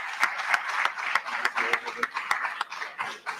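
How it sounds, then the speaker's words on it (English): An audience claps sparsely at a Baltimore Teacher Network gubernatorial debate event, with scattered, irregular claps that are fairly faint and distant, continuing steadily for a few seconds. "Please give him a round of applause"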